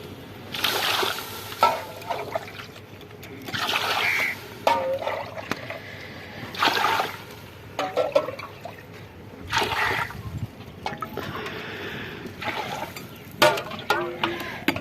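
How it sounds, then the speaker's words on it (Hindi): Water poured into a cooking pot before rice is added, coming in several separate splashing, trickling bursts with quieter pauses between them. "पानी ऐड करते हैं। पानी ऐड करके बाद में जो है चावल ऐड करेंगे।"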